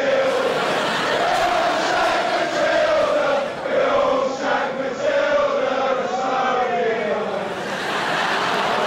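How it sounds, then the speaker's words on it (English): A cricket crowd at an Ashes match chants and sings in loose, wavering unison, a loud mass of voices that swells and dips across the stands. "you've got to love the crowd."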